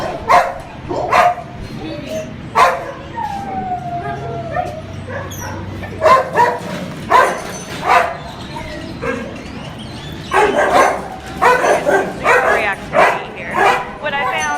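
A reactive pit bull-type dog barks and yips in repeated loud bursts, with whimpering between, while people talk nearby throughout.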